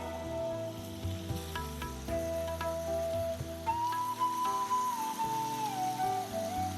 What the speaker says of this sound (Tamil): இந்த சிக்கனை வந்து இந்த பொருட்கள் நல்லா வதங்கின பிறகு இது கூட நான் சேர்த்துக்கிட்டேன்